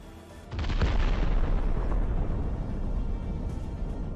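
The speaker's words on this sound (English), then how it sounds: "The explosion is like a volcanic eruption." A drone's precision strike sets off a huge blast that hits abruptly after a brief quiet moment, then rolls on as a sustained, heavy, crackling roar with deep rumble, loud and continuous to the end.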